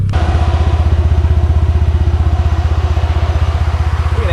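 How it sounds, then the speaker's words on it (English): A turbocharged Mitsubishi 3A92 three-cylinder with a K03 turbo runs in an off-road buggy, a loud, close, steady rapid chugging idle with even pulsing beats throughout. "Look at that engine rock."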